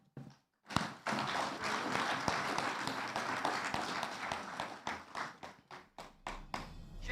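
Audience in Ghana applauding after a speech at a Ghana Journalists Association event, steady dense clapping that starts abruptly, holds, then thins into scattered, fading claps.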